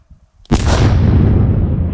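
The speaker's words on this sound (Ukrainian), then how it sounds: "Увага! Вибух!" A sudden loud blast from a mine being cleared in Ukraine after a moment of quiet, followed by a long, heavy rumble that fades slowly.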